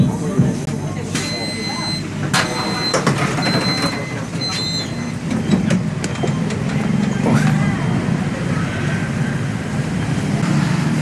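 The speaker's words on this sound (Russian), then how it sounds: "Сейчас мы сели на 17-й автобус, и на нем мы доедем до ночного рынка." Bus interior noise aboard free bus number 17 in Phu Quoc, Vietnam: a steady engine rumble and road hum with rattles and faint beeps throughout, with people talking in the background.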